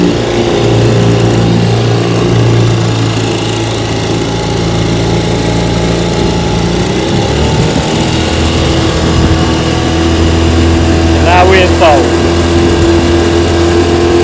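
An Evinrude 3706C outboard motor idles in reverse during a bayou test run, a loud continuous low drone that shifts pitch partway through, with a short higher rattle near the end.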